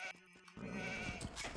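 Sheep bleating in the strategy game Age of Empires II, one short wavering bleat lasting about a second, close and moderately loud with no talk.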